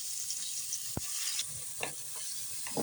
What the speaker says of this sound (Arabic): نزيد البصل، نزيد حبه كبيره فلفل ونقليهم مع بعض